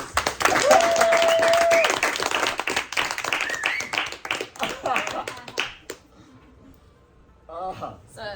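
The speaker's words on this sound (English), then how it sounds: "Give her a round of applause" A seated audience gives a reader a round of applause at a talk, a dense burst of clapping for several seconds that thins out and stops, followed by a few spoken words.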